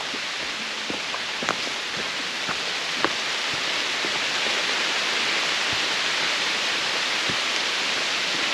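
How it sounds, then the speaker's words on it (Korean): Steady rain from a sudden shower pours down on a rocky mountain trail with a dense hiss, scattered drops pattering on surfaces nearby, with no voices. "소나기가 내려요."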